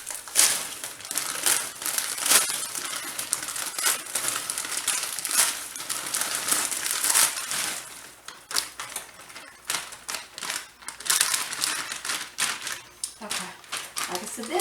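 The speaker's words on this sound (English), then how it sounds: "I'll have to cut this bag" A plastic bag is snipped and crinkled close up in a kitchen, sharp crackling rustles coming in bursts while a person talks throughout.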